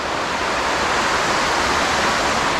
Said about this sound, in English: you've got a little waterfall down one end